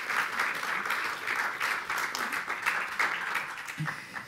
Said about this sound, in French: Ça mérite, je crois, vraiment des applaudissements.